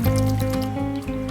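Milk is whisked into egg yolks for a strawberry Swiss roll cake, giving a brief wet, squishing and sloshing sound with a steady low hum behind it.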